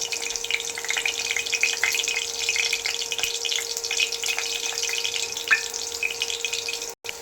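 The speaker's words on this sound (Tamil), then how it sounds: "நல்லா ஆயில் சூடாகிடுச்சுங்க இப்போ நம்ம ஜீரகம் கடுகு உளுந்தம்பருப்பு எல்லாமே போட்டுடுறோங்க" Cumin, mustard seeds and urad dal fry in hot oil for sambar, a dense, loud crackling sizzle with scattered pops throughout, cut off briefly near the end, with no voice.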